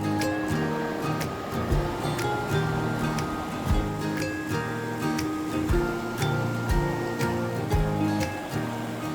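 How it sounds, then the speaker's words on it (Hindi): The Uhl River flowing through Barot Valley, a continuous loud rush of water close by, with irregular splashes and surges over a steady roar and no one talking. "इसके किनारे बैठकर सिर्फ पानी की आवाज को सुनना अपने आप में ही एक थेरेपी है।"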